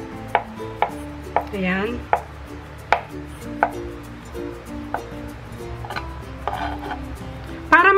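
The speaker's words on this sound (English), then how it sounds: "Ikakat lang natin yung ating egg." A knife chops boiled eggs for potato salad on a cutting board, giving about ten sharp, close taps at an irregular pace, with a brief quiet word spoken once.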